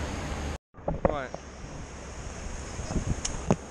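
Ocean waves and wind at a cold beach, a steady broad roar of surf and wind buffeting with a brief dropout near the start, while a person speaks intermittently over it.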